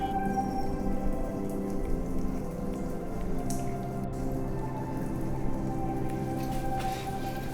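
Steady monsoon rain pours down continuously at Ratangad Fort, a dense even hiss of drops on surfaces that stays constant throughout, with no voices.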